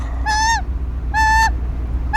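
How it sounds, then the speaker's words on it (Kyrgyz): A young, hand-reared bird of prey screeches loudly and close by, giving three drawn-out, harsh, tonal cries at a regular pace. A low background rumble runs underneath, with no talking. "Бул чото акыркы 2-3 күндөн бери катуу чайылдай турган болду."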